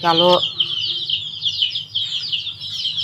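Hens walking around in the afternoon cluck softly, a short loud call at the start followed by a steady stream of high chirping and clucking nearby.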